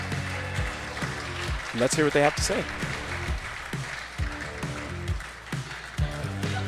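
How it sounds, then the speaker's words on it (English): An audience at a pickleball night event applauds with a sustained wash of clapping under an announcer's amplified voice, which keeps talking over it. "Let's give him a big round of applause"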